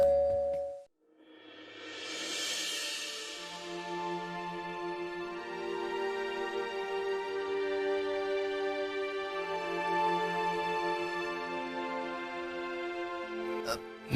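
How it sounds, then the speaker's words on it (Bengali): A two-tone doorbell rings out once with a bright ding-dong whose tones hang and ring on for several seconds, heard indoors in a Bengali TV drama scene. "কে বেল বাজালো আমি দেখে আসি"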